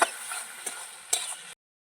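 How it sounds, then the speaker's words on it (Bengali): Spice masala fries in oil in a village kitchen pan, giving a soft steady sizzle broken by a few scraping stirs of a spoon. The sound is quiet and close and stops abruptly. "এই যে মশলাটা বন্ধুরা ভাজা ভাজা হয়ে গেল, এবারে মশলার মধ্যে তেল বেরোচ্ছে"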